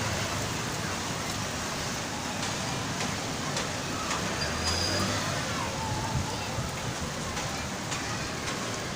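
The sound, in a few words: heavy rain falling outdoors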